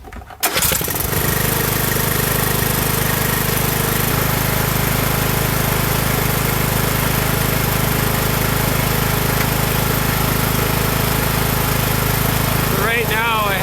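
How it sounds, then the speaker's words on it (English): Lawn tractor engine running on roughly 70 percent ethanol fires up after a short crank, then settles into a loud, steady, close idle drone with a mower-like rattle that continues to the end. "I'm going to start up the tractor. It's filled with ethanol"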